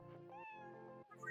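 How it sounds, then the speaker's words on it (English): An orange cat in a video game meows in one long, tonal, slightly wavering call, clear and close with a buzzy low undertone, ending on a brighter rising chirp. "Cronut, your sweet orange cat, rubs up against your chair leg with a throaty chirrup."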